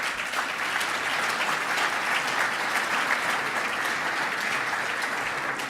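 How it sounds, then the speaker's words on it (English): Steady applause from a large audience at an LGBT equality awards gala, a dense, even patter of clapping that holds at one level throughout with no voices over it. "We should give ourselves a big round of applause for that."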